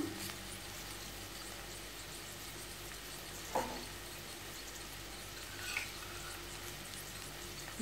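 Masala with fennel powder frying in a pan for vegetable biryani, a soft continuous sizzle with two short clinks of a utensil, close and quiet, no talking.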